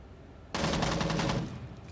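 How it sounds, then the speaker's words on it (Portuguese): A single rapid burst of automatic gunfire in Rainbow Six Siege, loud and close, lasting about a second before trailing off. "a gente tá cruzando tiro nela"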